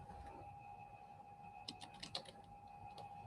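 Computer keyboard typing: a few soft, scattered keystroke clicks late in the short stretch, faint over a steady electrical hum, no one speaking.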